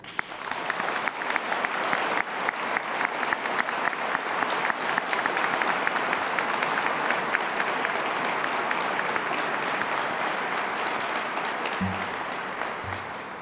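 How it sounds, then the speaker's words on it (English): Audience at the 2016 Profile in Courage Award ceremony applauding a refugee family, a full, sustained round of clapping from a large crowd that swells early, holds long, and tapers off near the end. "Please give them a round of applause."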